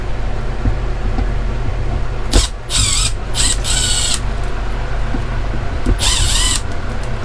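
Power drill driving short screws into the body of an RV motorhome being rebuilt, heard as a few loud bursts of whirring and grinding over steady low workshop hum, with no talk.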